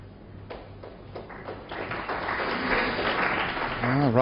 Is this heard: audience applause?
yes